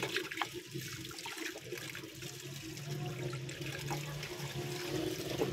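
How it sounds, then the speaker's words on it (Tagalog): Glutinous rice being rinsed in water, a steady wet sloshing and trickling that runs continuously at moderate level with no voices over it. "Gagamit po tayo ng 1 kilo ng malagkit na bigas. Tapos, hugasan po natin ito."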